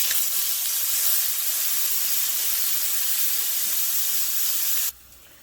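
Garlic sizzles in hot oil in a pot, a steady loud bright hiss that holds for nearly five seconds and then abruptly drops to a quieter background.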